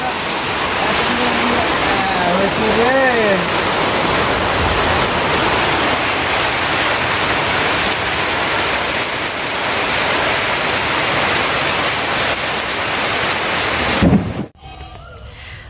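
Heavy morning downpour roars loudly and steadily, with a few bird calls early on, until the sound cuts off abruptly near the end.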